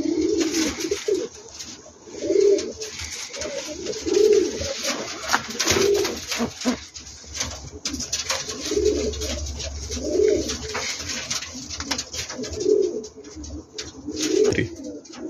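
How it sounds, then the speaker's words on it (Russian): Uzbek pigeons cooing close by in a steady series of soft, throaty calls repeated every couple of seconds, with faint rustling and handling noise between them. "Голубь 22-го года, годовалый,"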